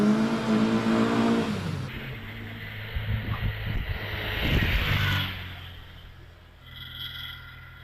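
A Porsche 924 Le Mans rally car with a 2.5 litre engine pulls away at a hillclimb, its engine revving hard and then fading as it moves into the distance, leaving quieter outdoor ambience.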